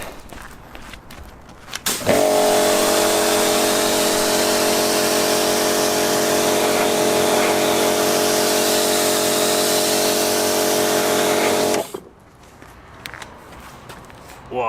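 A water spray rinses a dirty Honda Integra Type R DC5 in a loud, steady hissing blast with a humming pump tone, running about ten seconds between quieter stretches.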